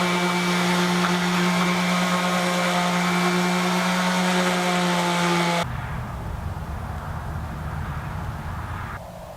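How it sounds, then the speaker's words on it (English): A power sander hums loudly against a maple guitar body, smoothing away router ridges with a steady, high-pitched drone for several seconds before the tone drops abruptly to a lower, rougher whir as it winds down. "Now I'll just sand the body real quick to make sure all the ridges from the router bit are removed."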